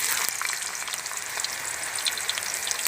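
Raw green banana slices drop into hot oil for chips, setting off a dense, loud, continuous sizzling crackle close by, with no talking.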